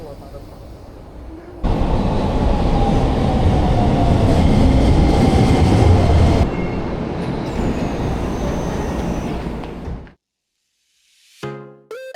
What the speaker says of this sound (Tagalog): Ang bilis ng tren nila, no?